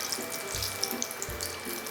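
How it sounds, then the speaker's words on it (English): Stuffed papad rolls deep fry in hot oil with a continuous bright sizzle and crackle, interrupted by two short low thumps. "Once the oil is heated, we are going to deep fry them."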